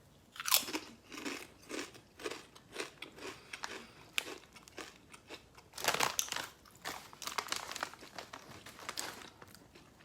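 Kettle-cooked beer cheese potato chips crunched between the teeth: a run of close, crisp bites and chewing crackles with irregular loud snaps and no talking.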